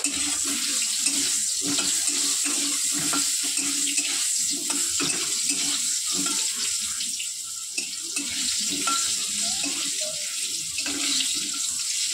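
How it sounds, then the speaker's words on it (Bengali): Potatoes frying in hot oil in a home kitchen, a steady dense sizzle and crackle that holds close and loud throughout, with faint stirring clinks and no speech. "এবার এই তেলে আলুটা ভেজে নেব"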